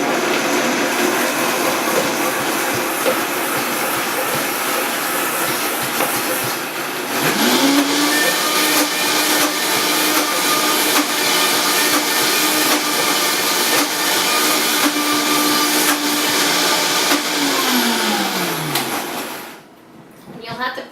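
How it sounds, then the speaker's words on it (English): A blender whirs steadily at high speed for a long stretch, blending orange frosting, with pitch shifts as the motor starts and slows, close and loud, then stops. "And then I'm going to blend this up."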